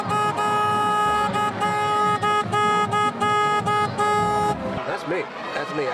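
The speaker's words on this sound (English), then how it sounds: "who came up with the car horn idea?" A car horn blares in a long series of repeated honks from a paralyzed fan at a high school football game, loud and close, with crowd noise and talk around it before the honking stops.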